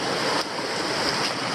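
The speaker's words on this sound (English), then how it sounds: "Just heading up the creek. The flow looks very low, but it's still flowing okay." Low creek water flowing steadily over rocks on a Queensland hiking trail, a continuous broadband rushing wash with no voices.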